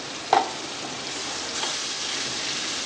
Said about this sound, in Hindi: ये गया पेस्ट टमाटर का और हरी मिर्चों का